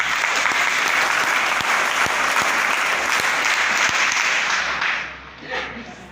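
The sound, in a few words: loud applause from the audience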